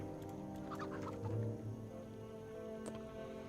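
A pet chicken in an online role-playing video game clucks in a few short bursts over a steady hum of game music, fairly quiet and close.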